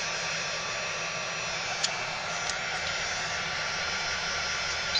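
A heat gun blows steadily while drying die-cut craft paper dahlia flowers, a constant close whooshing hum with no pauses and a couple of faint ticks.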